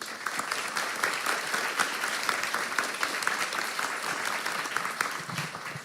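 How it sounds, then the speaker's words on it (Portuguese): Audience applause for Bia, a guest from Cruzando Histórias invited on stage, sustained dense clapping throughout at steady moderate loudness with no talk over it. "Uma salva de palmas para a Bia."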